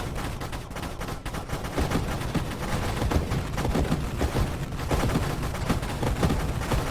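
Rapid, dense gunfire from a railgun minigun build in the space shooter Nova Drift, a continuous loud barrage of overlapping shots with explosions layered throughout.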